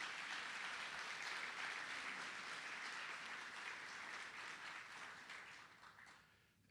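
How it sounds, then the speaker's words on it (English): Audience applause for the sponsors of a federal conference morning session, a steady wash of many hands clapping that holds for several seconds, then thins and fades near the end. "If you could give a round of applause to all our sponsors this morning"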